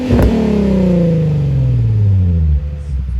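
Close, loud engine note from a car with an aftermarket exhaust, starting with a quick blip and then sliding down in a long, buzzy, droning decel as the revs fall, ending with a brief dip.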